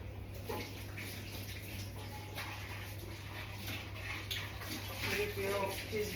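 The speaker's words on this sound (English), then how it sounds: "I'm washing the dog's plate." Steady running water splashes continuously as a dog's plate is washed, with light clinks and rubbing sounds over the flow, recorded close by at moderate level.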